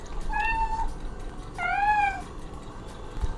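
A cat meows twice, a short mew and then a longer, rising one, clear and close against a faint background hiss.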